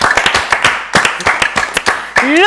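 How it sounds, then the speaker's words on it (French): A television studio audience claps at the close of a French New Year's Day broadcast, with loud, dense hand claps running throughout and a voice speaking briefly over them near the end. "Mais on vous applaudit quand même."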